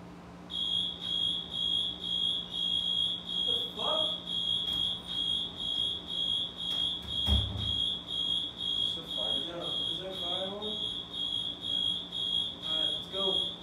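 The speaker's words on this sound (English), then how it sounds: "Is there a fire alarm?" A fire alarm sounds continuously indoors, a steady piercing electronic tone with rapid pulsing, loud throughout, while people talk and move about beneath it.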